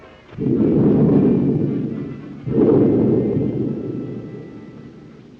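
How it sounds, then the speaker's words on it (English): Two heavy rolls of thunder from a storm, each starting with a sudden boom and then a long deep rumble that slowly fades, with no voices. "Be a storm."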